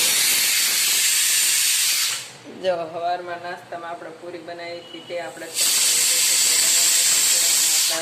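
Steam hissing loudly and steadily from a pot of boiling bitter gourd (karela), cut off for a few seconds while someone talks, then returning just as strong.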